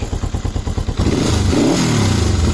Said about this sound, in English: I will try start her up here on the kick